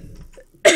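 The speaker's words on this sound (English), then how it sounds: "Yeah, I'm coughing today." A single short, sharp cough bursts out loud and close at the end, after a stretch of quiet low background.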